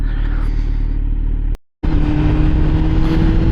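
Kawasaki Z900 naked sport motorcycle ridden on a cold road at about 60 mph, the engine humming steadily with strong low rumble and wind noise, briefly cut out by a short silent gap before resuming just as loud.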